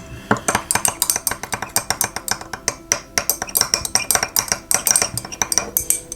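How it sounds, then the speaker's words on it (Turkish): A spoon handle stirs aloe vera gel in a small container, giving quick, rhythmic clinks and scrapes against the sides, close and continuous. "Bunu kaşığın sapıyla karıştıralım bu sefer."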